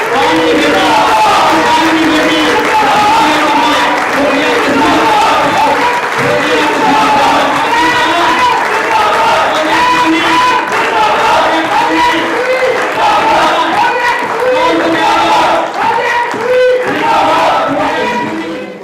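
A standing audience applauds and cheers for Fauzia Kasuri at an Eid Millan and Independence Day gathering, with dense, sustained clapping and crowd noise staying loud throughout, mixed with voices shouting.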